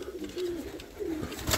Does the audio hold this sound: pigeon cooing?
yes